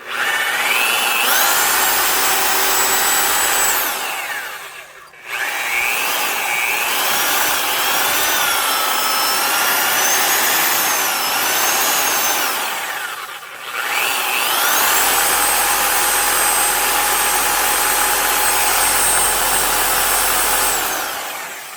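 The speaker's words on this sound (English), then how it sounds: "Sounds a lot better with fresh grease in it." A Milwaukee 6509 Sawzall reciprocating saw, freshly greased, runs with a loud, close, continuous buzzing whine that wavers slightly in pitch, stopping briefly twice before starting up again; no talking.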